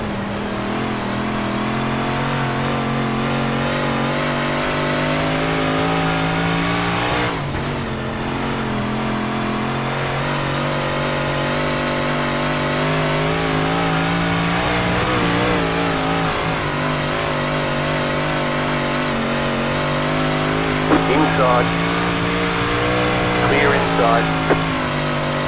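SUPER DIRTcar 358 Modified race car engines at a dirt track in the iRacing simulator, a continuous droning, revving engine note that rises and falls throughout, with a voice talking over it.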